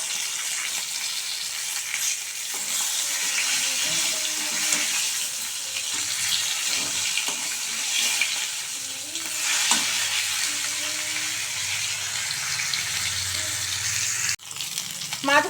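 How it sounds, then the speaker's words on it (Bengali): Sating fish frying in hot oil, a loud steady sizzle and crackle running throughout with occasional clinks and stirring scrapes, close by, ending in a sharp knock. "তেল গরম হয়ে গেছে, সাইটিং মাছগুলো আমি আগে ভেজে নেব।"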